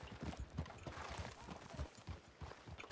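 Horse hooves clip-clop in the RedM roleplay game, a quiet, uneven run of hoof strikes set back in a busy game mix.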